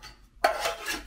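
Titanium Keith cup nested into a titanium pot: one sharp metallic clink followed by a short scraping rub and faint ringing as the pieces settle, close and alone.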